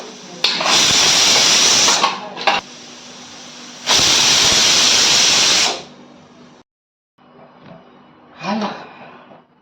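Loud bursts of steam hissing from a pressure cooker whistle while cooking ridge gourd, two long blasts separated by pauses, followed by quieter clatter and a brief softer hiss.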